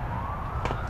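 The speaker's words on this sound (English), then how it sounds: "You already got the sirens going." Siren wailing steadily for about a second at a sports game, a rising tone over crowd noise with a brief sharp clap or shout.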